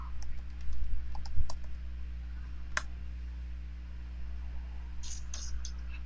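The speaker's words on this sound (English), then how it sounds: "So Sherry, type flawless in." Scattered light keystrokes on a computer keyboard as a word is typed in, faint clicks over a steady electrical hum with a low murmur of background noise.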